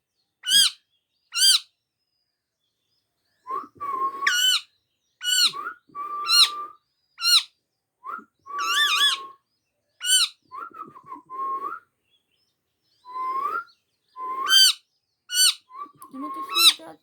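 A pet talking parrot calls and whistles in a series of sharp, clear, loud chirps and whistled notes, some short and some drawn out, repeated at irregular intervals across a quiet background, close by with no talking.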